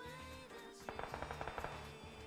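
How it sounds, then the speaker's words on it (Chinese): Rapid automatic gunfire in the mobile battle royale game PUBG Mobile, from a tech gun, a quick burst of about ten evenly spaced shots, fairly faint and distant. "我听到枪声很像科技枪啊"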